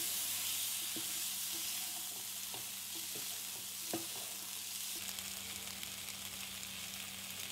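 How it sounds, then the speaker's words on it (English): Green peas are stirred in a frying pan for Manipuri-style matar paneer, with a steady close sizzle throughout and scattered clicks and scrapes from the spoon, no voices. "Throw in your green peas, stir and cook it for a minute."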